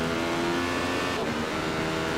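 A Radical race car, number 13, circling the Interlagos track with its engine droning steadily at close range and holding one tone before a brief dip and recovery.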